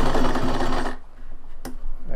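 A sewing machine stitches a zipper pouch in a loud, fast whirring run that stops after about a second, followed by quieter handling sounds and a brief click.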